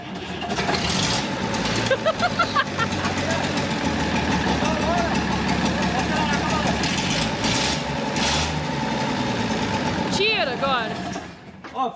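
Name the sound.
engine running and warming up the exhaust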